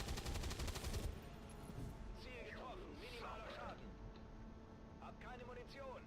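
Gunfire in XCOM 2 opens with a rapid, loud burst of repeated shots lasting about a second, then gives way to a voice speaking over quieter game sounds.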